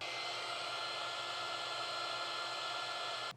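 A Bauer electric air duster blower runs continuously at close range, a steady hissing whoosh of rushing air that cuts off right at the end.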